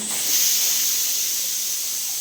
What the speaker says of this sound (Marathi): आता त्याच्यात थोडंसं पाणी टाकतंय बघा